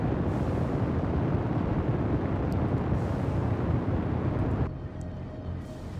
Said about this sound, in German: unsere erste eigene Rakete startet jetzt